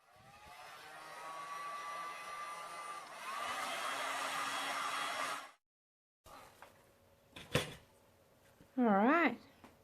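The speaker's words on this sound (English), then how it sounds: "with a heat gun." Heat gun blowing over a poured resin coaster, a steady close airy roar that rises in strength partway through and then cuts off, followed by quieter clicks, knocks and a short whistling sound.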